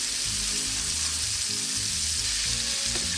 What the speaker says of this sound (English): Now I'm gonna add the beef we sliced before.